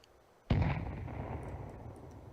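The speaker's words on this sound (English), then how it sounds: "Grenade out." A single sharp, loud grenade blast in Counter-Strike, after a moment of quiet, followed by a rumbling decay that lingers for more than a second.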